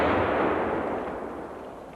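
A gunshot at a shooting range, heard as the broad, decaying boom of a single shot fading out over two seconds, loud and close.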